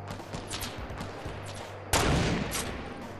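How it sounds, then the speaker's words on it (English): Rapid bursts of video game gunfire crackle over a low steady hum, with a louder, denser volley erupting midway and carrying on to the end. "Where the gunshots coming from?"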